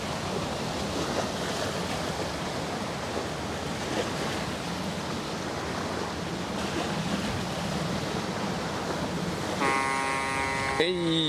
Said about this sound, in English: The water is like crashing into the shore here.